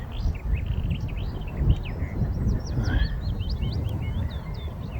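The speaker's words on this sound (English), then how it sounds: "And a lovely bird song, isn't it?" Birds sing on a parkland golf course at South Cerney, a busy string of high chirps and twittering phrases carried over a constant low rumble of wind.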